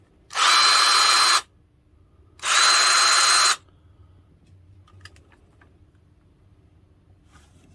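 Two bursts of a Hart cordless drill spinning at its lowest speed setting in drill mode, each lasting about a second, loud and close with a steady whir, followed by quiet clicks and handling noise.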